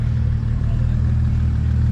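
A Porsche 997 GT3 engine idles close by, a loud, steady low rumble with a faint mechanical clatter, unbroken for the whole stretch.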